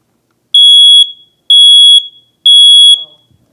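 Three loud, piercing smoke alarm beeps sound in an even rhythm, each about half a second long and separated by short silences.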